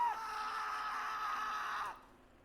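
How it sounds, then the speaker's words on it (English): A man in a Wither Storm analog horror piece lets out one sustained, high wavering scream lasting about two seconds, then it cuts off into near silence. "This man screams."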